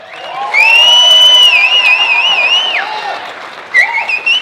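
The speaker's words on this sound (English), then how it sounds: "Can we get a round of applause?" Cheering at a wedding reception, dominated by a loud, sustained piercing whistle with warbling tones over crowd noise, followed by a second shorter whistle burst near the end.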